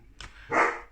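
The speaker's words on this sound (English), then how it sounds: "You can hear my dog get into trouble in the background as always." A dog gives a single sharp bark in a home kitchen, loud and close, cutting through quiet room noise.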